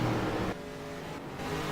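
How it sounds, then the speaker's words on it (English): A race car circles the track, its engine droning steadily at a moderate distance with slight dips and swells in level, with no talking. "Hearing the 84 car ball going around"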